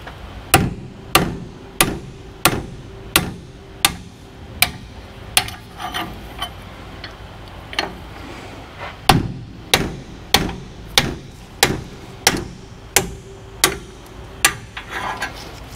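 Repeated hammer blows drive out brake caliper pins on a 1986 Ford Ranger, sharp metallic strikes landing about twice a second in a steady rhythm with brief pauses, close and clear.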